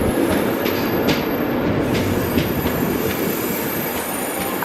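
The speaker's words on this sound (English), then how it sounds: "In comes 91 Battle of Britain Memorial Flight. What a legendary train this is." Class 91 electric locomotive, 91 Battle of Britain Memorial Flight, pulling into Leeds station on the East Coast Main Line, with a continuous loud rumble of rolling stock, steady wheel noise and faint high squeals throughout, no voices.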